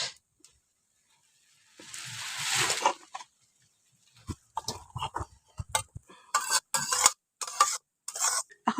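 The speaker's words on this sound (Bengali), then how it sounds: "এখন তেলটা দিয়ে সুজিটাকে নাড়াচাড়া করে একটু বাদামি করে ভেজে নিয়েছি" Semolina stirred and fried in oil in a pan gives a soft sizzling burst, then a run of scraping, tapping stirs of the spoon against the pan.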